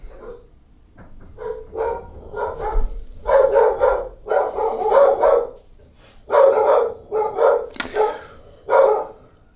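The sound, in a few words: dogs barking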